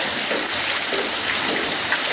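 Water flowing steadily from an old-style Pothwari vegetable-field well, a continuous broadband rush at full loudness with no breaks and no voices.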